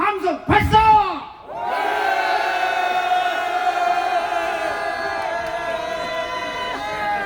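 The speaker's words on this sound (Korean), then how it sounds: "5분간 함성 발사!" A large outdoor crowd at a rally in Gokseong supporting President Yoon's impeachment lets out a loud, sustained collective roar, with a sharp whoop before the shouting swells and holds steady.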